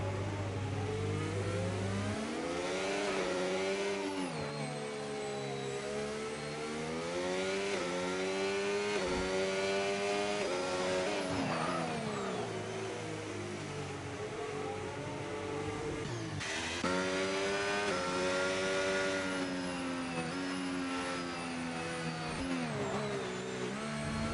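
Sim racing cars in a league race at the Singapore circuit, engines revving and climbing back up to speed, their whining tones rising and falling in waves as gears change, loud and continuous with no talking.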